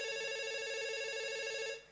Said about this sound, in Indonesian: sudah ada telepon yang masuk juga nih